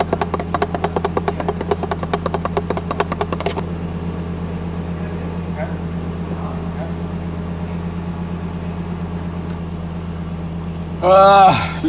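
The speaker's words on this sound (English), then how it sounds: "Ah, the engine's warm." A warm Lexus LFA engine idles with a steady low rumble, preceded by a rapid ticking rattle that stops; a brief voice cuts in near the end.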